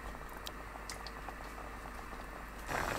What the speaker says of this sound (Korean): 위에 갈치 올리고 센 불로 국물 끼얹어가며 끓입니다